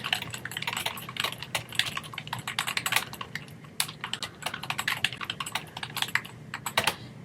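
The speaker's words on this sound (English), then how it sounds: "typing an answer here." Rapid, uneven clatter of keys on a computer keyboard, close and steady for several seconds, with no voices.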